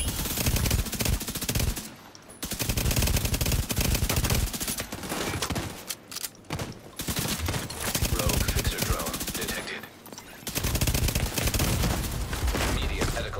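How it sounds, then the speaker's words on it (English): Gunfire in a PvP match of The Division 2, including a distant sniper rifle shot, heard as dense bursts of loud shots and rapid fire with brief gaps, under a faint voice. "Somebody just sniped me, I think. Yeah, he's using a sniper in the distance."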